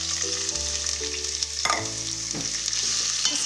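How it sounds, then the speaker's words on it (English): Onions sizzling in hot ghee in a pan and being stirred, a steady close frying hiss with scraping stir sounds and no talking. "Now, we just add our onions to the ghee."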